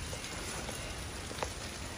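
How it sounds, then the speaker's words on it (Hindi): Heavy rain pours steadily outdoors in a village, a dense, even hiss of falling water with occasional louder drips close by and no voices. "मैं दिखाना तुहानू बारिश लगी हुई बाहर।"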